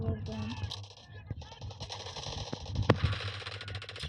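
Video game gunfire, dense crackling shots and sharp impacts mixed with game sounds, a voice talking briefly near the start and one loud bang standing out near the end.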